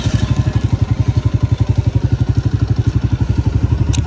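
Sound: new Honda motorcycle engine running as a child rides it

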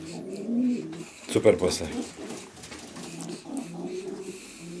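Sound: racing pigeon cooing

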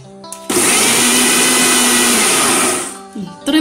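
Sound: blender blending biscuit ice cream mixture

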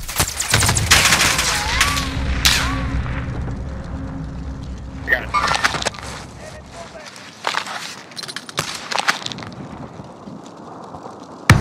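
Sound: gunfire from the video game Call of Duty: Warzone

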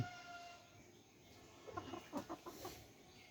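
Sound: chicken clucking

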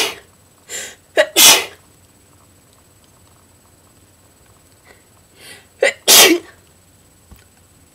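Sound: sneeze

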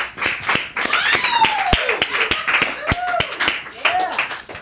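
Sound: audience clapping welcoming guests

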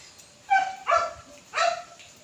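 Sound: dog barking

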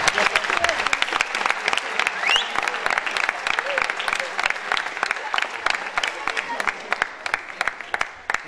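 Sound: audience applause at football league event

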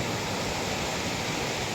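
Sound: waves washing on the shore at Boracay Island beach

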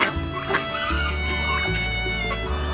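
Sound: free-range chickens and rooster clucking in farm pen

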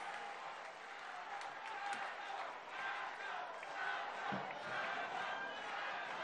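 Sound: crowd applauding the governor

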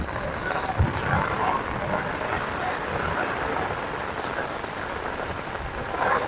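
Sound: heavy rain storm by river

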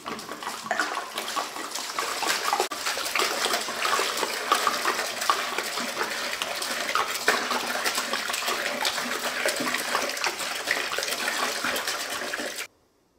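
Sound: pouring 5 liters of water into a container

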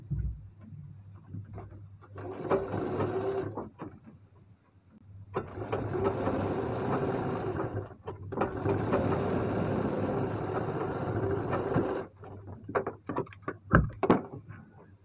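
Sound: sewing machine stitching blouse piping

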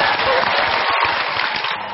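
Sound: studio audience applause

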